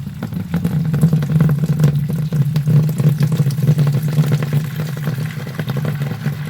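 Golden hefeweizen wort pouring steadily into a fermenter, a continuous splashing, gurgling stream with a low drumming rumble, close and unbroken throughout.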